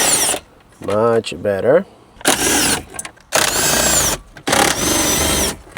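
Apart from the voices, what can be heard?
impact drill removing screws from car dashboard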